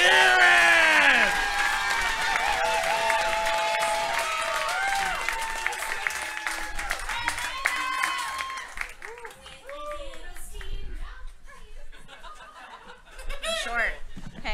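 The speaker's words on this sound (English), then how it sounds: "nice round of applause for Alayna Pagnani-Gendron" Comedy club crowd at a birthday roast applauding and cheering loudly, with snickers and chuckles mixed in; the clapping thins out partway through and gives way to scattered laughter and some voices.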